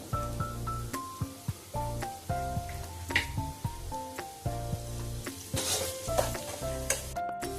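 Cabbage and other vegetables with a pinch of salt stir-fried in a pan for restaurant-style fried rice, steady sizzling broken by rhythmic scraping and stirring strokes, close and fairly loud with no talking.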